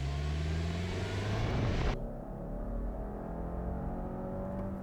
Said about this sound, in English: Let's do a 0 to 60 to 0.